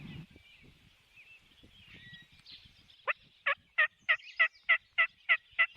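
A wild Rio Grande turkey in Kansas gobbles in a quick, loud run of about ten rattling pulses, following quieter rustling and faint distant calls in an open outdoor setting.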